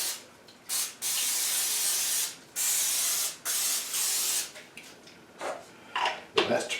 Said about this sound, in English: Instructions are to spray your baking tray.